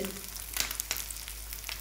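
Pieces of food fry in hot oil in a pan, with a steady close sizzle and a few soft scraping taps as they are gently turned over one by one.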